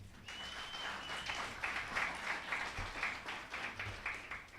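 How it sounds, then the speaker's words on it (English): An audience applauding at a talk on HBCUs, sustained dense clapping from a crowd for several seconds, moderately distant and fairly quiet, with no talking over it. "We need to give HBCUs a round of applause."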